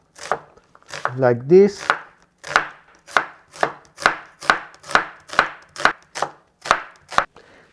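A knife chops through an onion on a cutting board in a steady series of about a dozen crisp, evenly spaced thuds, close and clear, with someone briefly speaking near the start.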